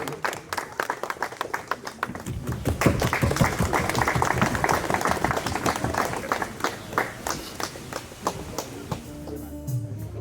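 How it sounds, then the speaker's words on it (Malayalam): An audience claps through a film event for a new Kunchacko Boban and Ratheesh Poduval project, a dense round of applause swelling to a full sustained peak before thinning into scattered claps, with some talk beneath. "കൈയടി കൊടുക്കാം"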